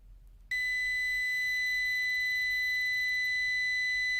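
Continuity-test beep from an ANENG ST194 clamp meter, one loud, sustained high-pitched tone that starts abruptly after a short quiet moment and holds steadily to the end.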